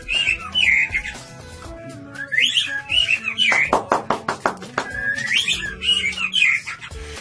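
A white-rumped shama (murai batu) sings a varied run of fluting whistles, trills and sharp chirps, loud and close, with brief pauses between phrases and a burst of rapid notes in the middle.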